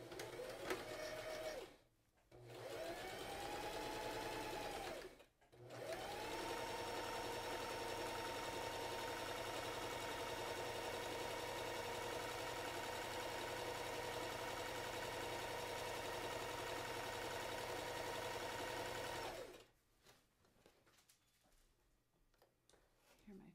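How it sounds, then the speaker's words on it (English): A sewing machine runs a straight stitch along a curtain hem with a steady, fast mechanical whir, stopping briefly twice early on, then running long and even before halting, heard close up. "We're going to do 1 stitch all the way across,"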